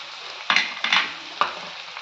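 Ground spices for a mutton kola urundai curry sizzle in a hot pan, with three sharp bursts of louder frying as they are stirred, over a steady background crackle.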